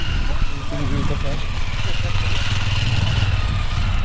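A motorcycle engine idles close by outside a hillside temple in Pune, a steady low rumble that continues under people talking.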